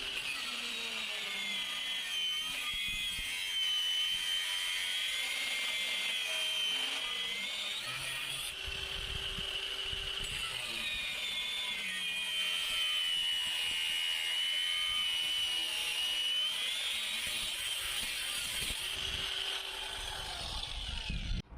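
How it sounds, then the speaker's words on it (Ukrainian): A brushless RONI angle grinder cuts through a 35 mm steel gas pipe with a 3.5 mm wall, giving a loud, sustained high whine and grinding rasp for over twenty seconds, its pitch wavering slightly under load. "КШМ робить це без проблем. Повністю всю трубу ріже."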